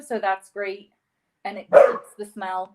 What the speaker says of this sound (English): What's that? Sorry, that is my dog.